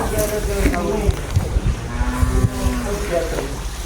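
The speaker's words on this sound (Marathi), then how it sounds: "अशा प्रकारे गाया विक्रीसाठी आलेले आहे आमच्या दादू भाऊकडं." Jersey cows moo with low, drawn-out calls at a cattle market in Maharashtra, amid a busy outdoor background of murmuring voices and general bustle.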